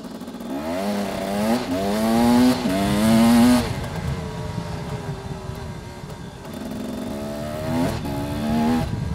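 An enduro motorcycle with a two-stroke engine ridden through the woods on slippery ground, engine revving up and dropping repeatedly in loud, close bursts with no talking.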